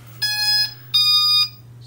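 Potensic Dreamer 4K drone startup tune: two sustained, bright electronic tones, each roughly half a second, played close and clear over a steady low hum, with no talking.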